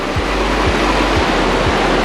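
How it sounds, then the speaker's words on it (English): Waterfalls roar beside a mountain hiking trail among Colorado's alpine lakes, a loud, steady rush of falling water filling the whole clip with no break. "Also don't know if you can hear me with the waterfalls here."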